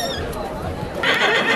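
A horse at a retirement stable for animals no longer ridden gives a loud, close whinny with a rising, wavering call, while people talk nearby.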